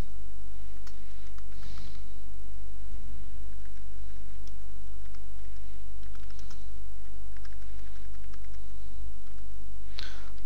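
Someone types on a computer keyboard, entering a name: scattered, quiet key clicks in short clusters over a low steady hum, with a brief louder burst near the end.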